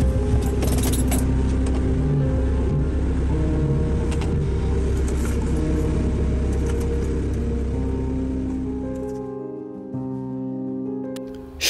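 A rental car on winter tyres climbs a mountain road with a steady low engine drone and tyre rumble. Faint jingling rattles sit on top, and everything fades to quiet near the end.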